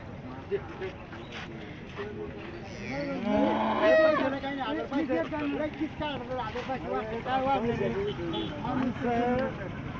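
Bulls at a rural cattle market low and moo amid a busy crowd of overlapping voices, moderately close. Lowing rises through the middle of the stretch over constant chatter.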